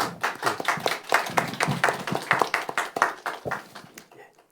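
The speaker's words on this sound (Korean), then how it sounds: "다시 한번 감사의 박수 부탁드리겠습니다" A small church youth-gathering audience gives a round of thanks, sparse and distinct hand claps in an uneven rhythm that thin out and stop near the end, close and moderately loud.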